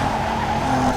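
In the Need for Speed Underground 2 racing game, a car drifts with a steady, loud tire squeal over a sustained engine drone for about a second.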